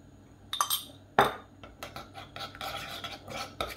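A spoon stirs mayonnaise and harissa together in a bowl, giving a few sharp clinks against the sides followed by scraping, clattering strokes of mixing, close and fairly quiet.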